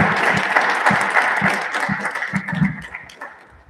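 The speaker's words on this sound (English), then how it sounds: "So let's have a round of applause." Audience applause at a resident research symposium, a dense burst of clapping from a seated crowd that holds steady for a few seconds, then thins and fades toward the end.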